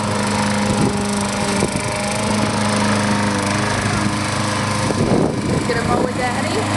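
Lawn mower engine running steadily nearby in a home yard, a continuous loud drone throughout, with a child and an adult briefly talking over it.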